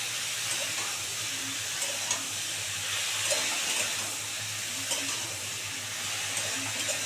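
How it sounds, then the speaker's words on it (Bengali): Milk and chopped bottle gourd are stirred in a cooking pot, giving a soft, steady wet swishing with faint sizzle and light scrapes over a low constant hum, and no voices. "একটু ভালো করে নাড়াচাড়া করে দিই।"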